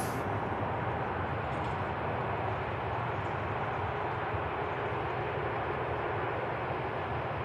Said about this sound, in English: nice touchdown from the KLM